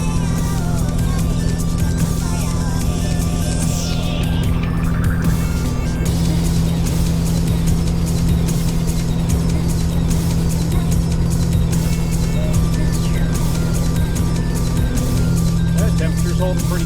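A turbocharged vehicle engine pulls hard up a steep hill, a loud, constant low drone inside the cab with a rising whine as it climbs, and a person talks over it.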